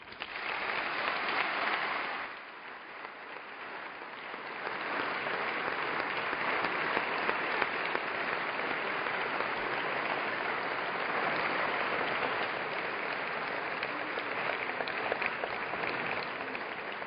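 Steady applause from a large audience at an awards ceremony, loud and sustained, with a brief dip in intensity early on before swelling back to a continuous roar of clapping.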